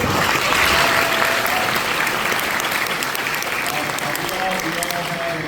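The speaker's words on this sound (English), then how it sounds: "One more round of applause for Mr. Miller." An audience at a graduation ceremony gives a round of applause, dense and steady clapping filling the hall throughout, with faint voices mixed in.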